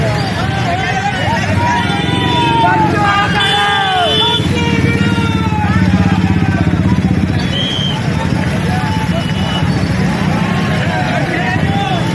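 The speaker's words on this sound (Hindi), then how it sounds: "प्रचार बाइक रैली का आयोजन देख रहे हैं।" Motorcycles ride in a crowded campaign bike rally through a town, engines droning steadily and loudly throughout, with horns and crowd chatter mixed in.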